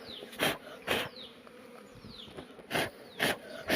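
Honey bees buzz around an opened wooden hive box during honey extraction, a steady hum under sharp, loud passing buzzes as individual bees fly close by the microphone.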